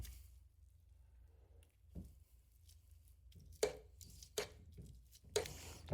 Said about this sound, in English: Just going to use my spoon to kind of break up the rest.